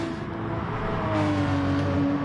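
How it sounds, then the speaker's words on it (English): A Porsche drifting through corners in a racing video game, its engine note holding a steady, loud droning whine with no break or voices over it. "drifting through the corners with that Porsche"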